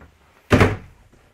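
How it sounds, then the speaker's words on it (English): A storage compartment in a Newmar Dutch Star 4020 motorhome is pulled up, giving a single close, solid thunk with a short rattling tail, alone without talk. "I want to pull this compartment up and show you you've got some extra storage down there."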